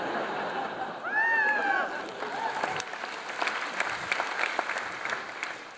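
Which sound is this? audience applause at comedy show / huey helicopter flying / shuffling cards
audience applause at comedy show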